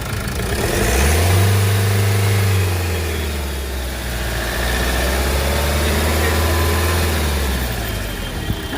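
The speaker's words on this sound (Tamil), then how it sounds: "ரைஸ் பண்ணி கொடுப்பா கொஞ்ச நேரம் அப்போ ரைஸ் சவுண்டு கேட்கும்" A Mahindra Xylo 8-seater's engine revs up twice, the pitch climbing and falling with each push, with a steady idle rumbling between.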